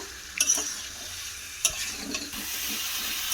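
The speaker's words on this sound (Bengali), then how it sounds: "এবারে লবণ আর চিনিটাকে দিয়ে খুব ভালো করে মিশিয়ে নেব" Pumpkin curry with vegetables being stirred in a pan after salt and sugar go in, with a soft continuous sizzle under two sharp utensil knocks and gentle scraping.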